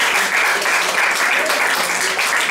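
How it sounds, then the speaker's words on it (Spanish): A church congregation claps together in steady, loud, dense applause that fills the space evenly from start to finish, with no voice rising above it. "Dale un aplauso al Señor."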